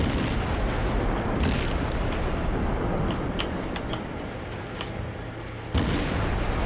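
Naval artillery fire from World of Warships, heavy booming salvos rolling over a constant dense roar, with sharper blasts near the start and end; no voices.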